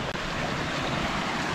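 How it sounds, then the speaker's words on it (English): A creek flows just beyond the trees at Great Sand Dunes, heard as a steady broadband rush of water blended with some wind noise, continuous and moderately loud outdoors. "there's a creek right down there, all along the edge here"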